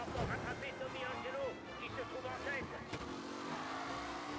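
A race car in the Mafia video game roars along and brakes, its engine tone rising and falling under fast, excited French speech.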